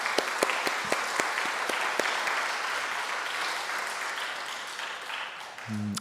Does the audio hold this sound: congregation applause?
yes